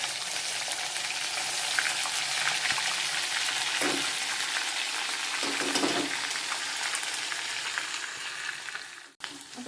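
Masala and cumin hit a hot pan after paneer is removed, producing a continuous moderate sizzle with occasional stirring scrapes, ending in a sharp knock.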